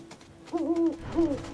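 An owl in the video game Final Fantasy VII Rebirth gives two clear, resonant hoots, the first longer and the second shorter, heard alone at moderate volume.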